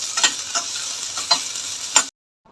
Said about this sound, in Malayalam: ഹൈ ഫ്ലെയിമിലാണ് വറുത്തെടുക്കുന്നത്.